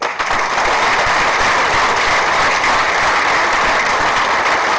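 A theatre audience at an amateur play applauds loudly and continuously, a thick, even roar of clapping holding steady throughout.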